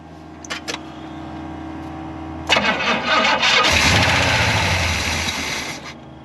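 A neglected Pontiac Grand Prix cranks with a few sharp starter clicks, then catches and fires into a loud, steady idle with a busy ticking rattle from its lifters running throughout.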